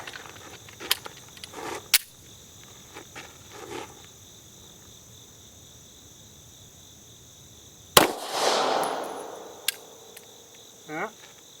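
A Taurus GX4 pistol fires just after its factory recall: a sharp report near the start, then a louder crack with a ringing, decaying tail later on, with faint clicks and handling noise between.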